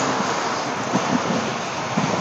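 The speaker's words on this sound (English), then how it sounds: "It's nice and windy." Steady wind roars and buffets the microphone, a broad continuous rush with a few gusty bumps, no voices.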